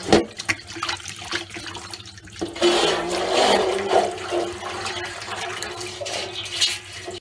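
Pumpkin pieces rinsed under running water, a steady splashing and gushing stream that swells after a couple of seconds and continues loud and close to the end.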